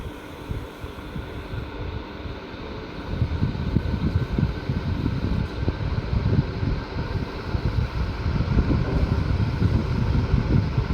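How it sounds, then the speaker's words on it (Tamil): A ceiling fan just switched on runs with a steady low hum and airy whoosh that thickens after a few seconds, continuous and fairly close, with no talking. "இப்போ ஃபேனை வந்து ஆன் பண்ண போகிறோம்"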